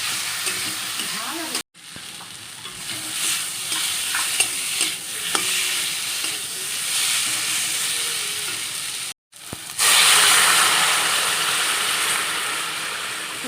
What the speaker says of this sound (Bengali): আদা দিয়ে জিরে গুঁড়ো দিয়ে একটু হালকা করে ঝোলটা করছি